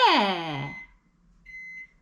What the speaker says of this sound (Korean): 마이크로웨이브 소리야